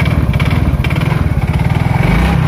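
A cold Yamaha X-Ride automatic scooter engine idles steadily nearby with a low, even, pulsing putter and no voices.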